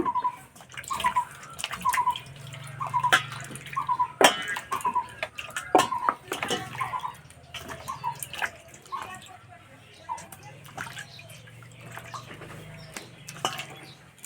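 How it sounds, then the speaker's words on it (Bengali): Potatoes and tomatoes are washed by hand in water, with intermittent splashes and drips, light clinks and a few coughs, all fairly close and irregular. "আলু আর টমেটো পরিষ্কার করে ধুয়ে নেব।"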